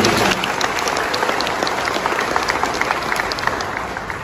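Loud, dense applause from a large crowd at an outdoor political rally in Indonesia, continuous clapping with scattered sharper claps running the whole way through.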